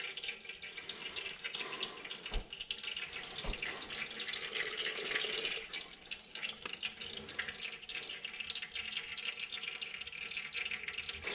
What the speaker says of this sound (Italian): E faccio uscire tutto l'olio piano piano.